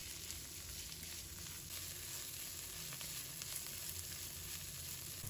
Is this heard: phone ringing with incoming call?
no